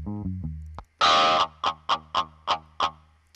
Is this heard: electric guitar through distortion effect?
yes